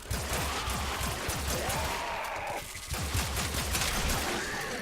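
Rapid gunfire crackles in Warframe on the Switch, a steady train of quick pistol shots repeating evenly and loudly, briefly pausing before resuming amid game effects.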